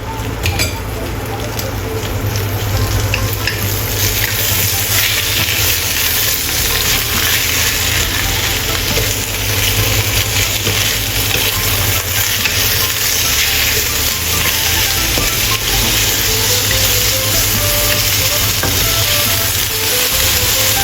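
Kailan vegetables stir-fry with Chinese sausage in a hot pan, giving a loud, continuous sizzle with constant tossing and scraping throughout.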